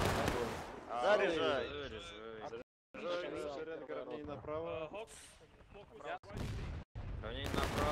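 Musket volleys ring out during a Civil War battle reenactment in War of Rights at Cold Harbor, with sharp bursts of gunfire and shouted orders mixed among heavy radio-style talk.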